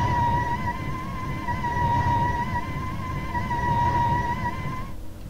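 A Mercedes Sprinter bus sliding door in the game OMSI 2 opens with a steady, high electronic whine over a low engine rumble, the tone holding for several seconds before stopping.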